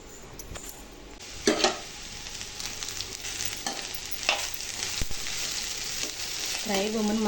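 Carrots fry in a pan with a steady close sizzle, broken by a few scraping stirs and light clinks of a utensil against the pan.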